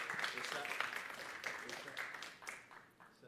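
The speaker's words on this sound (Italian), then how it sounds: "lo salutiamo di nuovo con un applauso" Audience at a public meeting in Udine gives the departing President a brief farewell round of applause, moderately loud clapping that rises and tapers off over a few seconds amid background murmur.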